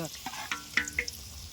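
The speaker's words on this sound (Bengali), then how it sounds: "কত সুন্দর হচ্ছে বেগুনিটা ভাজা" Eggplant fritters (beguni) fry in hot oil with a soft, steady sizzle, broken by a few sharp utensil clicks and scrapes over a short stretch.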